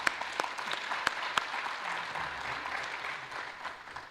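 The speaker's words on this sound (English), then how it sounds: "Yeah, round of applause." Applause from a conference audience thanking sponsors, a moderate, fairly distant patter of clapping with a few sharper claps at the start, fading gradually.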